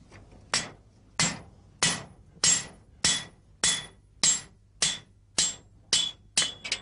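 A cooper hammers iron tools to set the heads into a barrel, striking about a dozen loud, ringing metallic blows at an even, slightly quickening pace, close by and alone.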